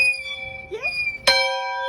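Bell at Palmer Memorial Institute rung by hand, a sustained ringing tone decaying, then a second sharp strike that rings out bright and loud, with brief voices between strikes.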